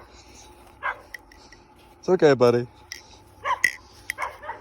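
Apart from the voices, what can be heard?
dogs barking and whimpering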